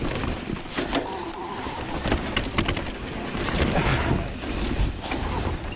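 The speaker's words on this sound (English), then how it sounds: "It's raining out and it's quite windy" Wind gusts roar against the microphone on a mountain bike trail at Cwmcarn in the rain, a loud, continuous buffeting rush with sharper spatters and bumps mixed in.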